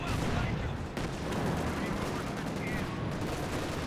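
Anti-tank guns fire in a Company of Heroes 2 battle, amid dense, continuous gunfire and explosions that fill the scene loudly, with a commentator's voice partly mixed in.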